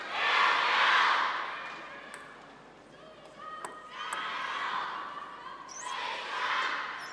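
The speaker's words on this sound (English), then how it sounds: "Sun Yingsha getting a little bit of fan action here from the crowd" Crowd of table tennis fans cheering for Sun Yingsha during the 2017 China Open women's singles final against Ding Ning, broad swells of voices rising and falling in three waves with a few ball taps between them.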